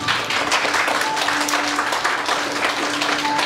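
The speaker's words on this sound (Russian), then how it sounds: "Ваши аплодисменты." Guests at a wedding registration ceremony applaud, a steady wash of clapping that is fairly loud and continuous with no clear speech over it.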